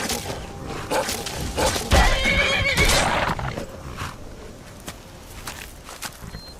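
A horse in the Skyrim video game whinnies loudly near the start, followed by clip-clopping hooves that thin out into fainter scattered steps.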